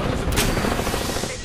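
Apex Legends gunfire crackles in a dense, loud rapid burst of shots across the whole moment, with a sharper crack near the start.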